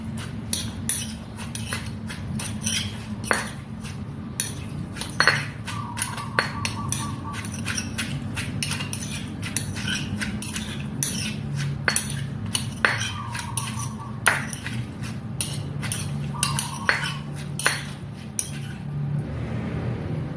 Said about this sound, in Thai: ตำให้เข้ากันเลย